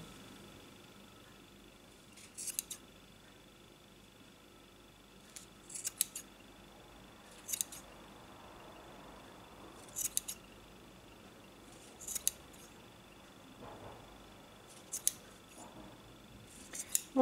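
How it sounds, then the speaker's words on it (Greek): Scissors snipping crochet loops of a knitted backpack one at a time, sharp separate clips every couple of seconds over a quiet background, close and fairly faint. "Και θα πάω να κόψω όλες μου τις θηλιές, μία-μία."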